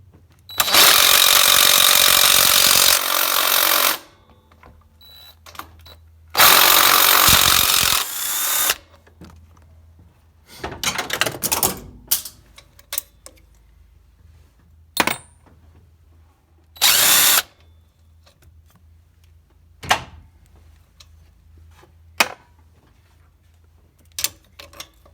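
A power tool undoes the upper intake plenum bolts on a 1992 Ford F-150: two long, loud whirring bursts, then shorter spins mixed with metallic clanks and clicks as the bolts come free.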